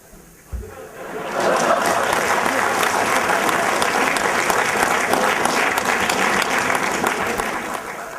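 A crowd breaks into sustained applause after a brief knock, clapping loud and dense for several seconds before easing slightly.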